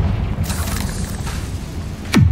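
A Confringo blasting curse fires in Hogwarts Legacy with low rumbling blasts, then ends in a sharp whooshing sweep that drops into a loud, close boom.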